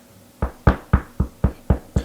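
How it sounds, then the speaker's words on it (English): Door knocked during a stage reading of a Romeo and Juliet scene: six evenly spaced, close, solid knocks with short decays, heard alone without speech. "Hark! How they knock!"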